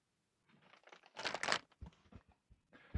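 A strong plastic bag crinkles and rustles in bursts as a new Record Power tailstock for a Coronet Herald wood lathe is unwrapped, close and fairly quiet, with the loudest crumpling in the middle.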